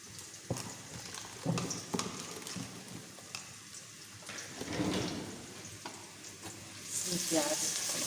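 Onions fry in a pan for spicy keema aloo matar, with a soft, continuous sizzle broken by scraping stirs and clinks of a spoon at irregular intervals.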